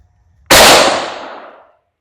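A single loud, close rifle shot from a Yugo SKS firing Red Army Standard ammunition, with a sharp crack and a long fading echo.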